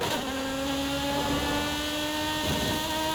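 An Italian exotic sports car in Forza Horizon 5 revs and downshifts, its engine note a loud, sustained tonal whine with stepped pitch changes and a brief blip around the middle, heard alone.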